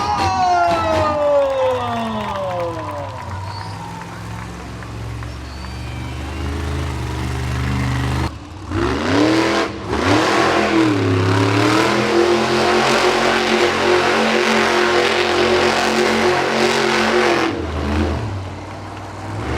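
A monster truck engine roars and revs hard in repeated surges while doing donuts at an arena show, loud and close, with the growl rising and falling as it spins around.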